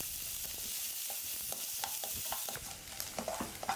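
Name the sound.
stir-frying carrots for japchae in a pan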